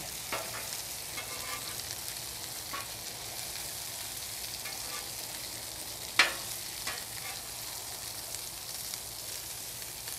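Bacon fries on a Blackstone flat-top griddle with a soft, even sizzle that runs throughout, broken by a few light scrapes and one sharp clack near the middle, with no voices.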